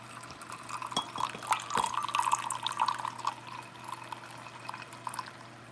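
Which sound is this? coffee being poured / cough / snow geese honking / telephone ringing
coffee being poured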